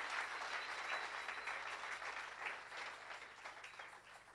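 Congregation in a church service applauding and cheering to praise the Lord, a dense, steady wash of clapping that fills the room for several seconds before easing slightly at the end.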